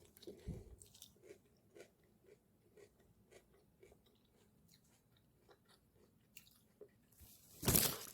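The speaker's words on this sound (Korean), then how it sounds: "무가 아삭아삭하니 새콤달콤 너무도 맛있습니다." Crisp, tangy pickled shredded radish salad is chewed close to the microphone, giving a quiet run of regular wet crunches, with a louder burst near the end and no talking.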